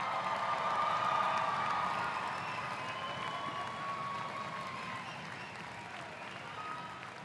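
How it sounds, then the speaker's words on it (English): A college commencement crowd applauds its graduates, a broad sustained wash of clapping heard from a distance in a large hall, slowly fading slightly toward the end. "Let's have a round of applause for these graduates."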